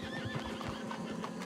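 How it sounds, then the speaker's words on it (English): A horse whinnies in Red Dead Redemption 2, a loud neigh with wavering pitch over steady hoof clip-clop and game ambience, no talk. "Horsey!"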